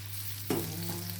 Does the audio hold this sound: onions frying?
yes